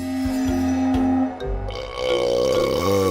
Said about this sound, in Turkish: Ee, geğirdi bir de arkadaşlar.